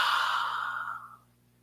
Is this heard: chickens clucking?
no